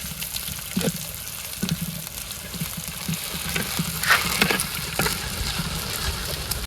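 Chopped garlic and onion sizzling in hot oil in a wok for greens, a steady fry with intermittent stirring scrapes and clinks, close and moderately loud, no talking.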